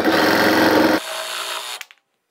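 A jigsaw cuts out a joint in a 2x4 wooden board for a Japanese-style bed frame. It buzzes loud and steady for about a second, drops to a lighter whine, then winds down and stops.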